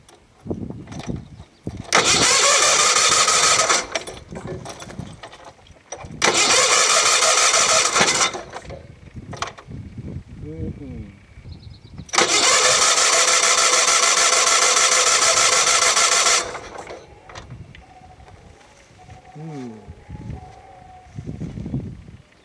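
A Case 446 garden tractor engine is cold started with choke: three loud, long cranking bursts separated by quieter pauses, with faint mechanical rattles between attempts and no steady running after.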